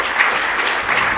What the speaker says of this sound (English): I just want a big round of applause for Anna Vang, who really organized the whole meeting.